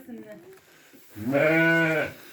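Sheep bleating in a pen among ewes with newborn lambs, one loud drawn-out bleat close by after a man's speech.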